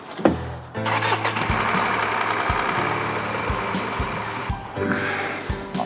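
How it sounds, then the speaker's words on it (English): A Mk8 Ford Fiesta 1.0 EcoBoost engine cranks, catches and runs at a loud, rough idle for a few seconds, briefly dropping out once before picking up again. "if you just run the engine literally for a few seconds"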